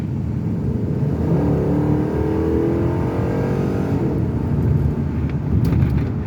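A 2004 Dodge Ram pickup with a Hemi V8 revs and accelerates on a test drive after a stalling fault. Its engine roar is loud and continuous, rising and falling in pitch, with road and cabin rumble underneath.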